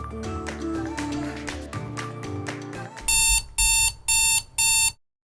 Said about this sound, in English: Oh, it's the sound of the alarm clock.